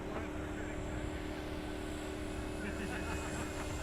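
An FMS 1700mm Corsair V3 radio-controlled model warbird on 6S power, fitted with a new propeller, runs a steady electric motor and prop whine at moderate distance during takeoff with flaps set.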